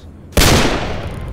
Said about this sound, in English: Oh my gosh, gotta love these pistols.